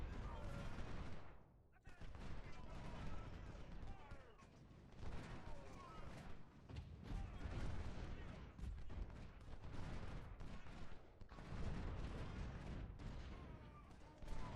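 Dense, continuous infantry musket volleys pour onto artillery in a Civil War strategy battle game (Ultimate General: Civil War, Harrison's Creek), a steady rolling crackle of massed gunfire with bursts of heavier booms, lasting throughout with a voice talking over it.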